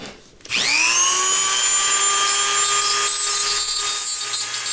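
A rotary tool grinds burrs from the post of a Matchbox Dodge Challenger die-cast car, a loud high-pitched whine that spins up suddenly and holds steady close by.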